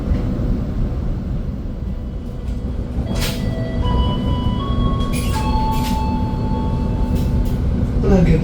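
An Argo Anjasmoro passenger train rolls along its rails with a steady loud rumble heard from inside a carriage, while brief squeals, metallic clicks and tones rise over the constant noise.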